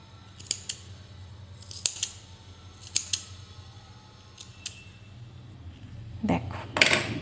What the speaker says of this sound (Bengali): এবারে নিচের দিকে যে এলোমেলো যে এক্সট্রা উলটা হয়ে আছে এটাকে আমরা কেটে সমান করে নেব